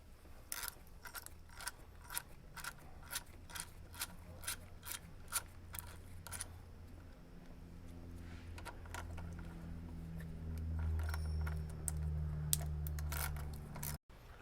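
A ratchet clicks in a quick, regular rhythm while removing the automatic transmission pan bolts of a BMW E39, a close series of sharp metallic ticks, then a lower mechanical hum near the end.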